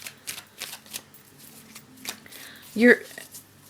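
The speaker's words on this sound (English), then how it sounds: "I need to pick 2 cards for this, please" Tarot cards are shuffled and drawn from a deck: soft riffling and sliding card noises with a sharper flick near the end, heard under quiet speech.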